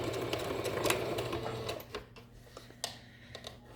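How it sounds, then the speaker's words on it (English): A sewing machine back stitching a fitted kids' fabric mask, rattling in fast bursts that slow and stop, followed by a few short clicks and taps. "Back stitch. Nice and easy. Back stitch."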